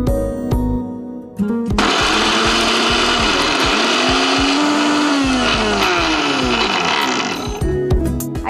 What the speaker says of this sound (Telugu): ఇప్పుడు ఇంకా గ్రైండ్ చేసుకునేది. వెళ్ళి మిక్సీ పట్టుకుని వచ్చేసేయండి.